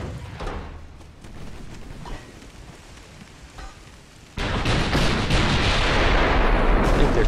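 Naval battle in Ultimate Admiral: Dreadnoughts, dreadnought against modern cruisers, with ships firing HE rounds: distant booming cannon blasts, then a sudden loud, sustained roar of gunfire and rumbling that fills the mix.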